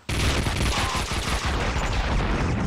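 Sustained, loud gunfire from a Max Payne 2 firefight, including shotgun blasts, roaring densely and almost without a break for nearly three seconds.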